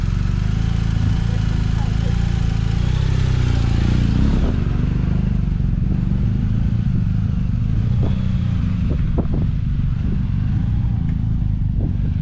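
BMW 1250 GS motorcycle riding off-road, a loud, continuous engine drone with rumbling clatter from the terrain, and a few scattered knocks and bumps along the way.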